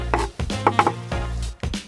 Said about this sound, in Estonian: Siis lõikame ka tomati ära.